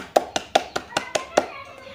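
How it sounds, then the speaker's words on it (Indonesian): A classroom of children claps in six distinct, evenly spaced bursts, the claps loud and close and forming a quick steady rhythm before fading out. "Tepuk tangan dulu untuk kita semuanya"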